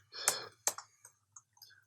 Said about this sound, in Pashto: دلته به یوټیوب ټایپ کړئ